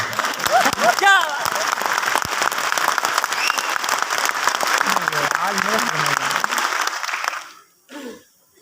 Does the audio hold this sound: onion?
no